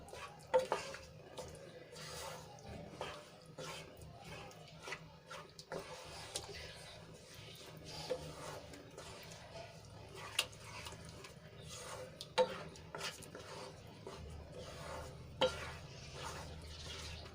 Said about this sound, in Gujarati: અને ગ્રેવીમાં સરસ રીતે મિક્સ કરી લઈશું